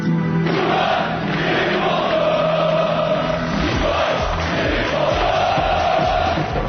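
Stadium crowd at a Galatasaray vs Antalyaspor match, chanting for Gheorghe Hagi on his return: a dense, loud, sustained roar of many voices with rhythmic swells, continuous throughout.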